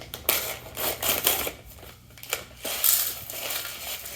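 A foil seasoning packet of onion soup mix being torn open and handled over aluminum baking pans, with crinkly rustling and several sharp crackling bursts close by, no voices.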